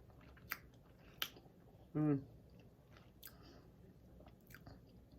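Someone chews and bites macaroni and cheese seasoned with cayenne pepper, a few sharp close mouth clicks and one louder bite, with no talk.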